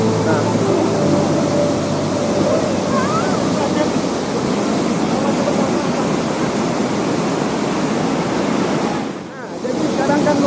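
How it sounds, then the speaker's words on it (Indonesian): The two-tiered Tansi 4 waterfall in Solok Selatan gives a constant, loud rushing roar of falling water, with some wind buffeting the microphone and a brief dip in level near the end. "jadi di air terjun Tansi 4 ini ada 2 air terjun."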